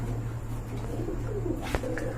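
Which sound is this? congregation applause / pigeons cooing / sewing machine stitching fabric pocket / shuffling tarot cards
pigeons cooing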